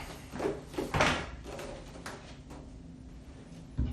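A hollow core bathroom door is test-fitted into its frame, giving a few close wooden knocks and bumps with a scraping shuffle in between, ending on a sharper thud.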